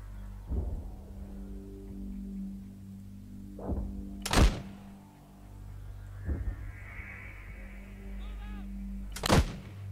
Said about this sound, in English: Смит, садись за миномет.